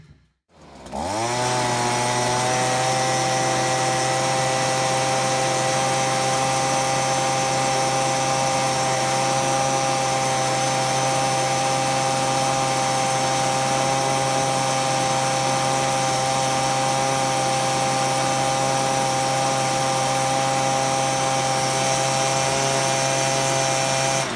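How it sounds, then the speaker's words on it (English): A Stihl BG55 leaf blower starts up and then runs alone at a constant loud, close, steady high-pitched engine whine with a strong droning hum for over twenty seconds. "The very first one we're going to use today is my trusty little BG55 blower right here"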